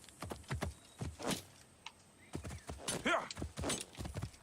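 Horse hooves clip-clopping in Assassin's Creed Origins, a scattering of uneven, close hoofbeats with short gaps between them, alone without talk.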